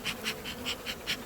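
Honeybees buzz at an opened beehive, a close, steady drone that swells in regular pulses about five times a second, with no voices over it.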